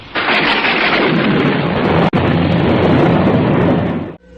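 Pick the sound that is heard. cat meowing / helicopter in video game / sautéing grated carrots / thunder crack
thunder crack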